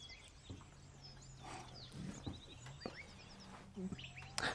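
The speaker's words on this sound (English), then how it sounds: "Hello, birds." Small birds chirp and tweet outdoors in quick, scattered calls over a faint, steady background hum, fairly distant and soft, with no talking over them.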